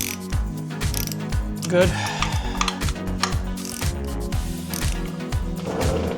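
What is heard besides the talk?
ratchet wrench removing AC condenser bracket on BMW E46 M3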